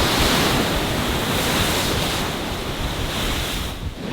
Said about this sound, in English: The waves, they're a coming.